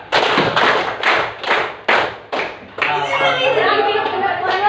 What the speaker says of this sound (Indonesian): coba tepuk 5 kali